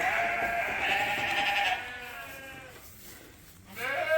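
White ewes bleat loudly and close by in a farm yard, a strong cry for the first two seconds, then quieter calls, and a fresh bleat rising again near the end.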